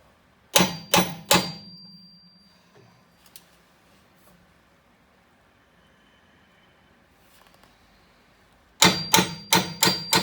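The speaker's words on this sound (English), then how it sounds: "Next, we're going to mark our holes with a paint pen and then punch them" Holes marked with a paint pen being punched for a Metalcloak evap canister relocation bracket: three sharp metallic strikes in quick succession, a long quiet gap, then a rapid run of five more loud, close impacts.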